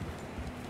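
Horse hooves clip-clopping in Red Dead Redemption 2, a quick run of soft rhythmic thuds over a few steps, close and moderately loud with no voices.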